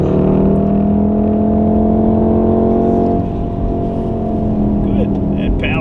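A Volkswagen Golf R accelerates hard on a race track day at Wakefield. The engine drones loudly and steadily, close up inside the car, with a faint voice underneath.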